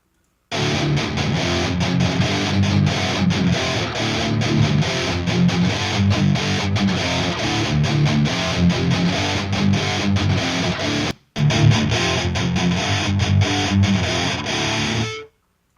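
Loud, dense distorted double-tracked electric guitar chugs steadily and heavily, with a brief dropout near the end before resuming.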